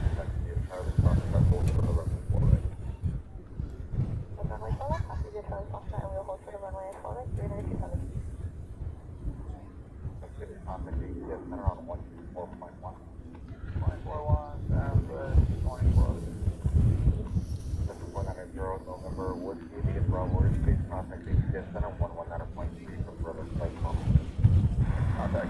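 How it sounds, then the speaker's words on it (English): Gusty wind buffets the microphone at an outdoor military airfield in Hawaii, a low rumbling roar that surges and eases across the clip, with some talk underneath. "There's that wind again."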